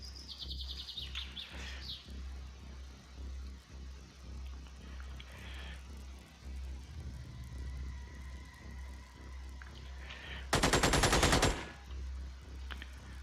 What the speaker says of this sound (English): Shooting at the entrance.